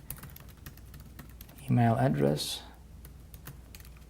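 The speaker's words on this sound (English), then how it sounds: "I'm not really good at talking and typing at the same time" Fast clattering keystrokes on a computer keyboard, steady and close throughout, while someone talks briefly in the middle.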